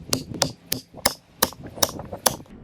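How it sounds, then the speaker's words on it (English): Repeated sharp metallic hammer strikes on a wedge in wood, about six blows at a steady pace, fairly close. "we can place our splitting wedge like that and start hammering it in"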